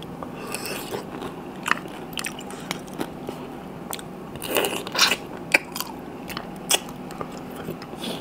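Someone eats a Thai spicy salad of green mango with fresh shrimp and fermented fish sauce, with close crunchy bites and wet chewing at an irregular pace.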